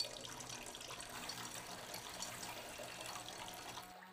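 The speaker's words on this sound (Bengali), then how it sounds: "এবার দিয়ে দেব পরিমাণ মতন জল। যেহেতু বড়ার ঝাল হবে একটু জলটা বেশি করেই দিচ্ছি।" Water poured into a spiced curry for lentil dumplings, a faint steady rushing stream running continuously and stopping abruptly at the end, with no voices.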